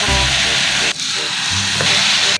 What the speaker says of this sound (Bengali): কালুয়া, ভালোই লাগছে, তুমি ঠান্ডার দিনে আমাদেরকে গরম গরম তেলে ভাজতে নিয়ে আসলে ভালোই লাগছে।